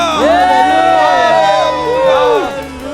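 A church congregation shouts and cheers hallelujah together at a worship service, a loud, sustained crowd roar of many voices rising and falling for about three seconds.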